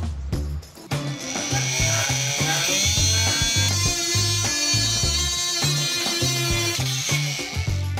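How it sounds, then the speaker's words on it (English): A handheld power tool is used for cutting Gorilla Clear tape on a Vitus Mythique bike, making a continuous whirring, buzzing drone with rapid pulsing, close and loud throughout, with no talk. "and it's using power tools"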